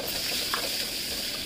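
A small onion and dried chilli fry in a pan for a village-style curry, giving a steady, close sizzling hiss throughout with no talking.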